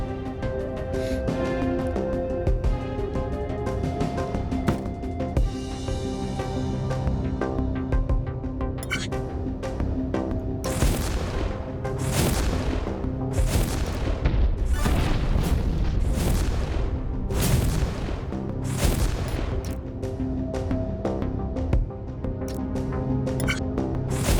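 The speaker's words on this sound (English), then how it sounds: "But I have 2 missiles coming at me." Missile explosions in the video game Infinifactory: a run of deep booming blasts, several in quick succession with bright bursts, over a continuous low rumbling game soundtrack.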